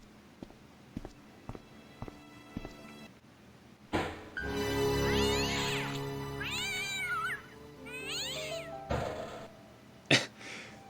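A cat in the Broken Sword video game lets out a series of loud, close wavering meows after a few soft taps, then goes quiet with a couple of sharp knocks at the end.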